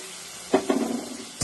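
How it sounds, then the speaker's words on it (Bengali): Spice masala fries with softened tomatoes in a pan, heard as a brief sizzle with two quick stirring scrapes close up, then a final short scrape. "মশলাটা ভালো করে কষিয়ে নেব।"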